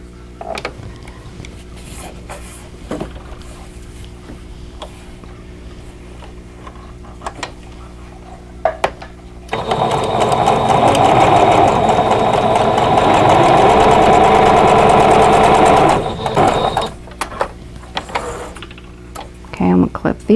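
A sewing machine runs one steady, loud stretch of about six seconds, stitching a triangle on a vintage Turkey in the Straw quilt block, with quieter handling noises before and after.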